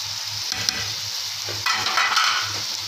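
Potatoes, three tomatoes and spices with cauliflower frying in a pan, giving a close, loud sizzle broken by repeated stirring scrapes and clatter, with no voices.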